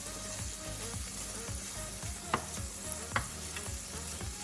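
Bacon pieces fry steadily in a pan with a constant crackling sizzle, broken by a few sharp scrapes and clicks of stirring, close and at moderate volume, with no talk.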